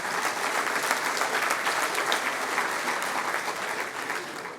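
A crowd at a mayor's New Year address applauds steadily, a dense, even patter of many hands that holds for several seconds before easing slightly at the close.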